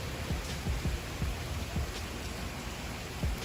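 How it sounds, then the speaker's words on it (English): Steady rain falls outdoors in Florida, a continuous soft hiss with scattered drops landing nearby, heard alone without talk. "It's raining, but you can barely see a rain cloud anywhere"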